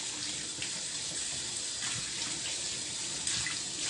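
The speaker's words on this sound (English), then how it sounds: "So individually rinse out your meat." Tap water runs steadily into a kitchen sink while meat for the week's proteins is rinsed piece by piece under the stream, a close, even broadband rush with no voices.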